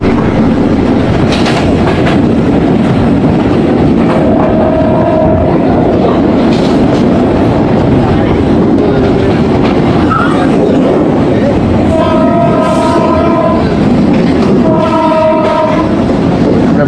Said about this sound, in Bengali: এই জন্য ট্রেনের স্পিডটা মোটামুটি স্লো করেছে